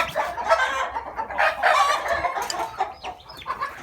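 Bantam chickens in a coop with a clutch of eggs cluck loudly and busily, with a crow rising among the close, overlapping calls and no talk.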